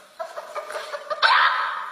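Chickens cluck in a series of short close calls, rising into a louder drawn-out squawk toward the end.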